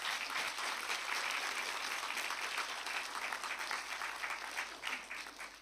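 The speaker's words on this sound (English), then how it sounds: "I'd like you just to applaud the IAS Secretariat for the great work that they do." An audience at a general members' meeting of an international society applauds, a dense sustained wash of clapping from a sizable crowd that slowly thins toward the end, with no talking over it.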